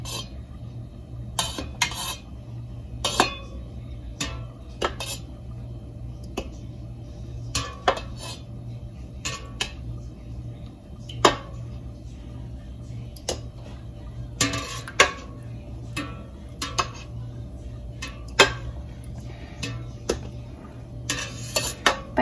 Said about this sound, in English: I'm just gonna take my slotted spoon and go in up and down motions.